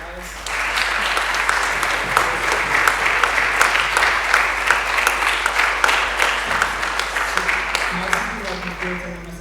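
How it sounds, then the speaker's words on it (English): Loud audience applause at a PocketQube workshop event, many hands clapping in a continuous, slightly pulsing roar over a low electrical hum, with voices emerging near the end. "A round of applause for Iris."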